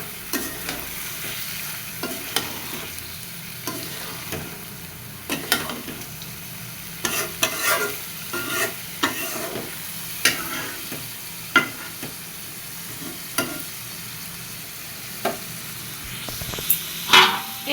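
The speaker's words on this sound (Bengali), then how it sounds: "এখন কষায় নিব।" Chicken pieces with spices are stir-fried in a pan, a continuous sizzle broken by repeated, fairly regular scraping strokes of a spatula against the pan.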